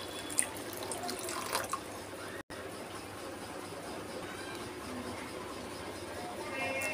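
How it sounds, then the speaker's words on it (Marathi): Hot water poured into sabudana (sago pearls) in a bowl, a faint steady trickle and splash heard close, with a few small clinks and one brief dropout. "हे 2 वाटी पाणी मी गरम करून घेतलेले आहे आणि आता हे साबुदाण्यामध्ये ओतत आहे."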